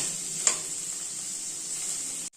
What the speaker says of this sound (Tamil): வெங்காயம் நல்லா வதங்கட்டும் அப்புறம் தக்காளி போட்டு